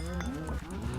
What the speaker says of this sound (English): It's just wherever I walk, cows explode into flames.